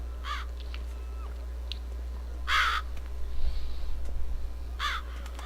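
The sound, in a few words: crows cawing in video game The Witcher 3 Blood and Wine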